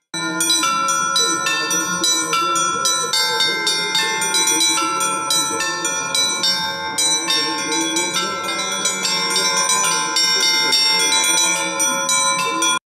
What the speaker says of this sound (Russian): Сыграл вальс колоколов